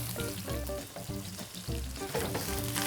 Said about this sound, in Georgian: მე ამასობაში უკვე ხახვი და ბულგარული ჩავყარე, ნიორი და ჯინჯერი.